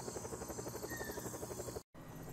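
In the video game Just Cause 4, a helicopter's rotor thumps in a steady rapid pulse over a whining engine drone, loud and close, with a brief dropout near the end.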